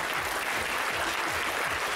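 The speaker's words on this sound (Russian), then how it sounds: "Вам аплодисменты!" An audience at a folk dance ensemble's report concert applauds steadily, a dense, even wash of clapping from a full hall, heard from a distance and fairly soft.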